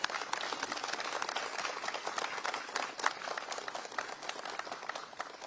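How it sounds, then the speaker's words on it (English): Audience applause at an economic development announcement in Austin, Texas, with dense, steady clapping from a crowd filling the whole stretch at an even level. "please give them a big round of applause."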